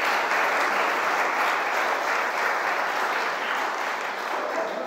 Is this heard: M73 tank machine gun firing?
no